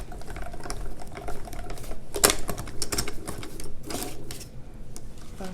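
A hand-cranked die-cutting machine rolling a folder through, giving rough uneven grinding and clicking, with one sharp snap and a later burst of rattling.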